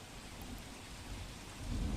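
Heavy rain pours steadily in Delhi during a downpour, with thunder rumbling low and building toward the end; no talking is heard.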